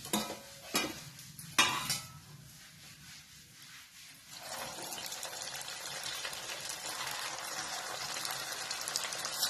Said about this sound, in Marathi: हे पहा अशा पद्धतीने आता हे सगळे तळून घ्या